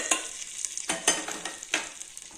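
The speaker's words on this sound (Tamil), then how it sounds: "போட்டு இந்த தாளித்தை இந்த பொங்கலில் கொட்டிடலாங்க." Hot tempering of spices and asafoetida poured into temple-style pepper pongal and stirred, giving a soft crackling sizzle with several rhythmic scraping stirs, close and fairly quiet, no talk.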